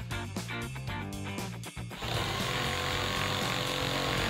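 A power tool cuts wooden boards for building a bunk bed, a loud, harsh, continuous grinding that steadies into a constant roar after a brief pause, with no voices.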